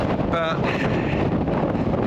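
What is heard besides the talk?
strong wind blowing on coastal lookout in Tasmania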